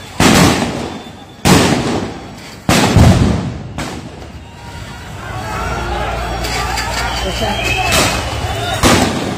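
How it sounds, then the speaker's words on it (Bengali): Sound grenades burst on a main road in Akhalia, Sylhet, during street unrest: several loud, sharp blasts, each followed by a broad, booming decay, with a dense, roaring crowd murmur filling the background. "সাউন্ড গ্রেনেড মারার সাথে সাথে যে মেইন রোড অন্ধকার অবস্থায় পরিণত হয়েছে"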